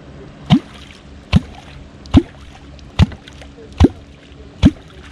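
Six hollow, resonant clonks from an old wooden catfishing clonk struck into the water, spaced evenly about once every 0.8 seconds, each a sharp near plop with a short watery tail over quiet background.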